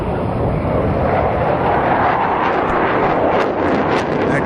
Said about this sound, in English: the display pilot, using all his professional skills and acumen, is turning the aircraft 360 degrees while maintaining constant height